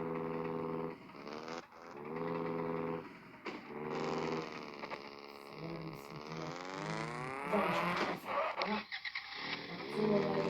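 A car engine turns over and catches, then runs with rising and falling revs, fairly faint, while voices talk excitedly throughout.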